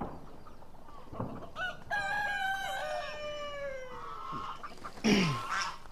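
Farmyard chickens, including a hen with five chicks, call nearby: scattered clucks, then a long, rising and falling crow-like call, then a sharp cluck near the end, over quiet background.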